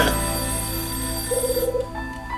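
In the video game Last Window, a telephone rings with a bright electronic trill that repeats in quick pulses over a humming background of music.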